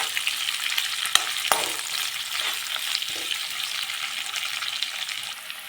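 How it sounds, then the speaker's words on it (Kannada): Onions frying in oil in a pan while cooking palak hesarubele uppittu, a steady close sizzle with a few sharp scraping stirs of a spatula, no talking. "ಈರುಳ್ಳಿ ಫ್ರೈ ಆಗಿದೆ"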